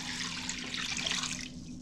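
Cold water pours steadily from a tap into a pot of stock bones, a continuous splashing rush that eases off near the end.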